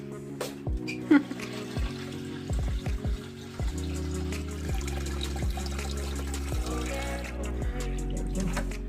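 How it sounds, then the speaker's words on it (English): Tap water pours into a bucket, a close splashing stream that deepens in pitch as the bucket fills, broken by several short pauses and thuds. "just fill this bucket up with like fresh clean water"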